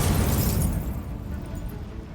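Incendio fire spell bursting in Hogwarts Legacy, a loud low rumbling blast that starts strongly and trails off into a sustained roar over about two seconds.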